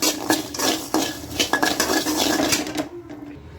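A metal spoon scrapes and clinks steadily against a pan as pepper and asafoetida powder are stirred into a fried snack. The scraping is loud, close and continuous, then it stops abruptly.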